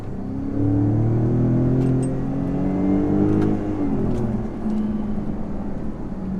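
A Ford Raptor pickup truck engine rumbles and climbs in pitch through the gears in manual mode, dropping briefly as it downshifts before accelerating again, heard from inside the cab.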